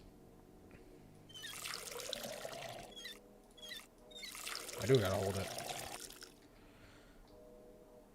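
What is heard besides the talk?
watering can filled at sink in video game Schedule I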